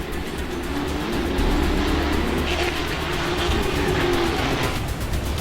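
Steady roar of a Porsche 911 Type 993 with its 272-horsepower six-cylinder engine, loud and sustained at a constant drone for the whole stretch, with no pauses or talk over it.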